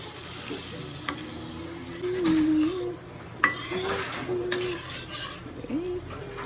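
A whole block of butter melting in a pan, a soft steady sizzle with a few clinks and stirring scrapes, while a pigeon or dove coos repeatedly in the background.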